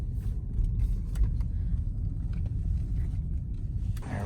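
A Porsche idles and rolls slowly in reverse into a parking spot, a steady close low engine rumble with faint clicks and a brief rustle at the end.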